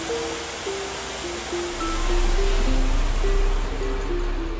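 Water rushes into a canal lock through opened sluices, a broad steady roar that swells louder partway through. Gentle melodic tones run over it.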